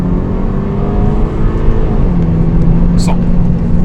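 Loud, close engine roar from an Audi TT MK2 8J 2.0 TFSI 200 hp launching and pulling hard, pitch sweeping steadily, with a brief high squeal near the end and talk over the noise.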